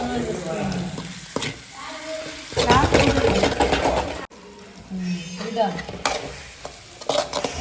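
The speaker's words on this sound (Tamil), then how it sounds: "தக்காளி வெங்காயம் நல்லா மசிந்து அந்த மசி எதிரியே மசிகிற அளவுக்கு வதக்கிக்கலாம்" Tomato and onion sautéing in oil for a prawn dish, loud close sizzling broken by scraping stirs and spoon knocks against the pan, with someone talking over it at times.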